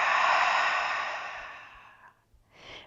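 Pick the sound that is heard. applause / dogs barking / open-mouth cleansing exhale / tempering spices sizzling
open-mouth cleansing exhale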